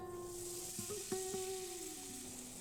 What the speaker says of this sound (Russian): возьмите часть теста и выложите в разогретое масло